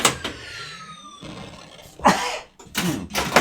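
A streamer coughs several times during a Raven pinball session, with a throaty burst near the start and two louder, rough coughs close to the microphone near the end.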